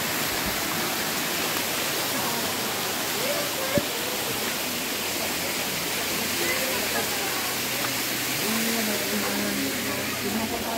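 Kakawayan Falls pours in a steady, loud broadband roar of falling water, continuous and close throughout with no break, and a brief faint knock partway through.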